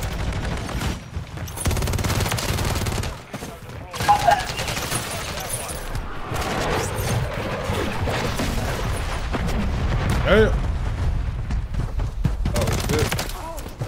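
Modern Warfare 3 gunfire with a WSP Swarm setup: loud, dense bursts of automatic shots and booms run almost the whole time, with a player's voice breaking in briefly over the shooting.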